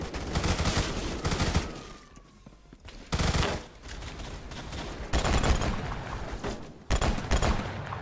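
A Kriss Vector fires rapid full-auto bursts in the video game Phantom Forces, several loud dense volleys separated by short pauses, with no voice over them.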